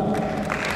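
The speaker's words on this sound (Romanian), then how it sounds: "Aplauze, să nu obosim cu aplauzele." A gala crowd applauding, heard as a brief dense wash of clapping that fills the whole moment at a steady, fairly loud level.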